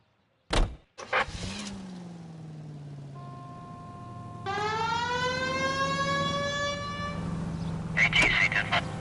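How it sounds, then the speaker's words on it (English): A police car siren from the L.A. Noire video game winds up over a low engine drone, rising in a long sweep after a door thud and engine start, loud and close, with a short wail near the end. "We have a siren."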